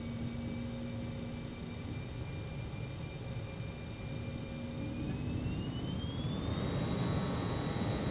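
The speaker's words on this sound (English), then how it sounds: "Let's get these engines stabilized." Airliner jet engines in Microsoft Flight Simulator 2024 spool up during a takeoff run, a steady roaring whine whose high tones climb in pitch near the end as thrust builds, loud and constant with no talk.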